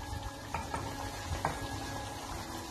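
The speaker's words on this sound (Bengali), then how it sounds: "এবার এটা বেশ ভালো করে ফ্রাই হওয়া পর্যন্ত" Mutton chap fries in a pan with a faint, soft bubbling sizzle and a few light clicks of stirring, steady and low throughout with no voices.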